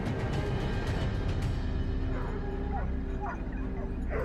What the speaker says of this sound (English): the sound of barking broke through the air